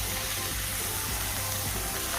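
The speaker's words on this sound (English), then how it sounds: "The fish is frying on one side." Steady broadband hiss and crackle of kingfish frying in a hot pan, continuous and close, with no talking.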